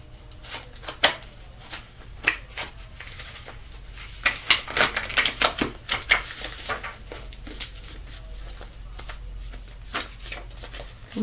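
A deck of tarot cards shuffled by hand in repeated bursts of riffling and flicking, with crisp close snaps and clatter that cluster densely mid-way, then thin out into sparser taps, no voices.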